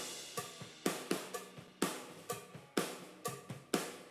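Full drum kit played through crossed room microphones, with steady kick and snare hits and wide washing cymbals, loud and alone in a roughly regular groove.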